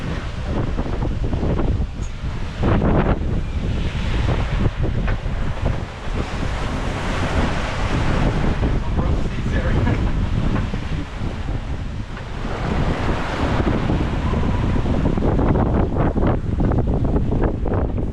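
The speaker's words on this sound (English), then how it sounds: "with breaking waves smashing into the side, this is how it looked like being inside a laundry machine" Heavy breaking waves crash and surge against a twin-ruddered sailboat's hull in a rough channel, amid roaring wind buffeting the microphone, a continuous loud churning wash.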